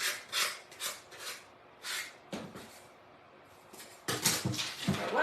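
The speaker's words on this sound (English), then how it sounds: "You could, of course, cut this off, but it's just easier to sand it" Wood sanding by hand on a DIY wooden banner piece: several bursts of broadband rasping strokes, near and moderately loud, with pauses between and a denser run of strokes toward the end.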